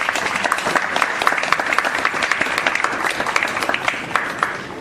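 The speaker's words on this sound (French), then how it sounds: "Est-ce qu'on peut acclamer les professeurs?" A school audience applauds its teachers with dense, continuous clapping from many hands, a steady crackling wash that holds for several seconds before easing slightly at the end.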